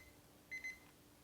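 A hair salon perm timer going off after seven minutes, a short pair of faint electronic beeps in a quiet room.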